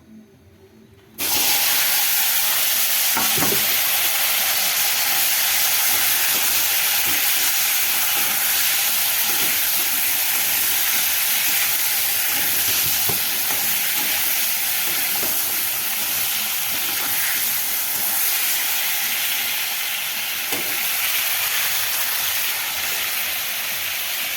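Eggplant slices fry in hot oil in a wok, a loud, steady hissing sizzle that starts suddenly and holds unbroken throughout, with faint occasional clinks.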